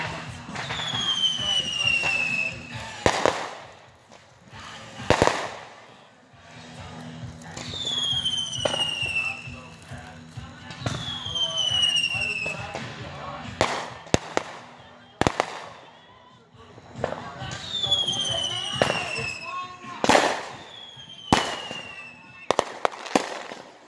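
Fourth of July fireworks burst in a string of sharp loud bangs and crackling pops, several volleys with whistling tails, close by, while people talk and chatter between the blasts.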